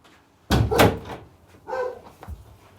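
A door is shut indoors to keep a boxer dog out. It makes one loud, close slam, then a softer knock or rattle a moment later, with faint bumps after.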